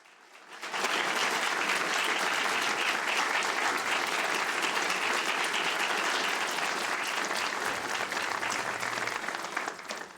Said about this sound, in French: Veuillez applaudir et féliciter Madame Froll pour cet accomplissement remarquable